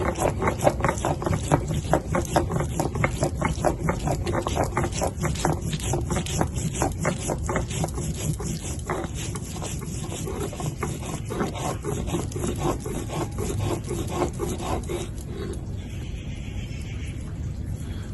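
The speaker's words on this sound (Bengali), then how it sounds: "এখানে গোটা জিরে নিয়ে নিয়েছি এখন গোটা জিরেটা বেটে নেবো" Whole cumin seeds ground on a grinding stone, a rapid rhythmic scraping and rubbing that repeats steadily for most of the time before easing off near the end.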